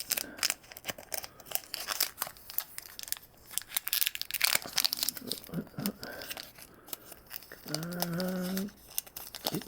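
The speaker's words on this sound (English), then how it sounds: "Like I'm ripping it." A Pokemon card pack torn open by hand, crinkly foil ripping in several close, uneven bursts, with a short tonal squeak near the end.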